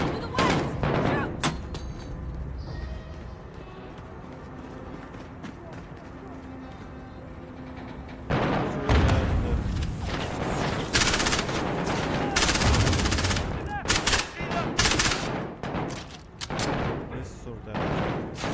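Rapid gunfire and machine-gun bursts ring out in the video game Call of Duty: Modern Warfare (2019), quieter at first and then louder and denser, with shouting voices mixed into the firefight.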